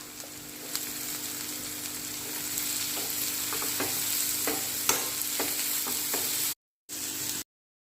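Onions sautéing with a pinch of salt in a pan for a beef curry, a steady close sizzle with soft scraping stir strokes throughout, no voices, cutting off near the end.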